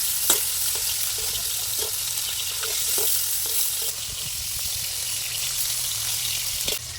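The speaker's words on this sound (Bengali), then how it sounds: "এবার এগুলো আমি উল্টে দেবো, নইলে বেঁকা হয়ে যাবে।" Whole koi fish frying in hot oil in a pan and being flipped over, giving a loud, steady sizzle with scattered clicks and scrapes from the turning.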